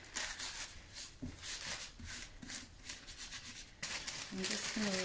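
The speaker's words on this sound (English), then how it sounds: "I'm just rubbing." Decoupage paper is rubbed by hand onto a surface, giving a close, continuous scratchy rubbing sound in repeated strokes, with a brief pause and some voice near the end.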